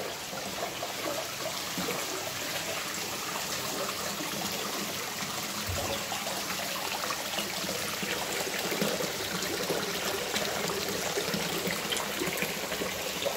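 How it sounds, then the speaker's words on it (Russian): Water from a spring in Ein Karem, Jerusalem, trickles and flows continuously nearby at night, a steady, even babbling with no voices. "Вот оттуда вода вытекает."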